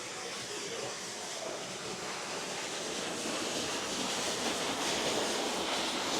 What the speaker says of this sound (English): Like some kind of waterfall back here.